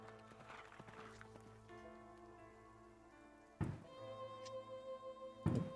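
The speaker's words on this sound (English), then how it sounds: "there's fireworks going off" Fireworks go off in the distance as two muffled, separate booms about two seconds apart, rising over a quiet background of steady tones.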